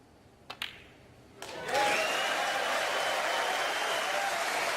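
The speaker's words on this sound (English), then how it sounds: "This time the applause is not premature" A snooker crowd breaks into applause as John Higgins reaches a century break; after a couple of sharp knocks and a brief hush, full, sustained clapping swells up and holds steady.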